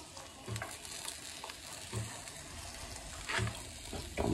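Onions sizzle steadily in a hot frying pan at a sandwich-making stove, a close crackling hiss broken by a few scraping stirs, with no talk.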